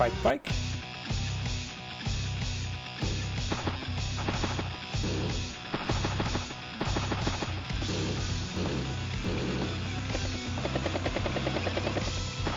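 A helicopter unit in the video game Advance Wars: Days of Ruin gives off a rhythmic rotor chop that runs steadily alongside synthetic game sounds, moderately loud and continuous.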